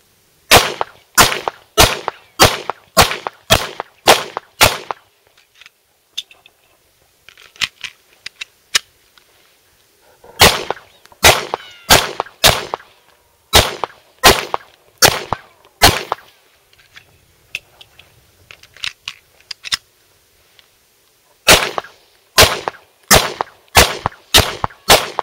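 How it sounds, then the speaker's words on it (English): A Hi-Point C9 pistol fires at 7 yards in three fast strings of about eight to nine sharp, loud shots each, separated by quiet pauses for magazine changes, with faint handling clicks between. "we'll just fire off 3 mags worth"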